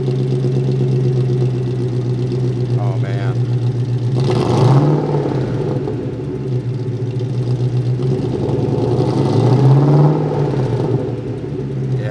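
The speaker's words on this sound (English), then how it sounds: "I want you to hear the exhaust note. It sounds wonderful in this car." A 1967 Ford Mustang restomod's V8 engine idles with a deep, rumbling exhaust, rising in two brief revs before settling back to a steady burble; no talking.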